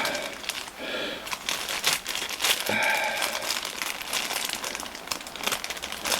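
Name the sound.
rustling of packaging behind the camera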